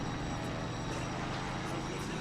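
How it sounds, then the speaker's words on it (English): Propeller aircraft droning steadily overhead as it approaches a surfaced U-boat in Silent Hunter III, a continuous broad engine roar with faint hints of sea and boat noise underneath, holding even in level throughout. "Let's see if that plane is going to attack me."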